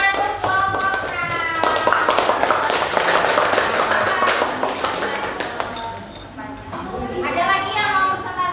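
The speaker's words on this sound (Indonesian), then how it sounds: "tepuk tangan untuk kelompoknya" Classroom applause from a class of eighth-grade students for a presenting group, a dense burst of many hands clapping with voices talking around it before it fades.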